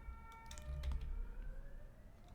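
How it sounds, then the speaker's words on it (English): Several police sirens wailing outside at a distance, faint overlapping rising and falling tones heard indoors, with light clicking close by. "That's a lot of sirens at once."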